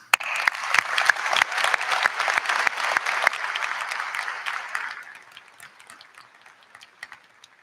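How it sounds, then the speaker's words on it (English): A crowd at a high school graduation claps enthusiastically for several seconds, the applause gradually thinning and fading into scattered claps. "A round of applause, please."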